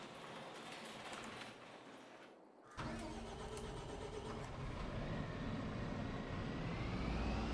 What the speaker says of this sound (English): So that you can take your tractor out of the MOT testing bay.